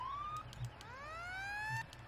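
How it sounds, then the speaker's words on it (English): A siren on a modded airport fire truck in Farming Simulator 17 wails in rising electronic sweeps, one climbing tone then another, fairly quiet with faint clicks behind it. "This thing is pretty cool, and it does have a few sirens as well."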